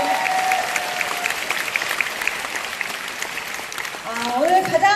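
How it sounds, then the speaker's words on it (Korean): Applause from an audience welcoming newcomers at a business meeting, a steady wash of clapping held throughout, with a voice speaking over it at the start and again near the end. "큰 박수로 환영하겠습니다."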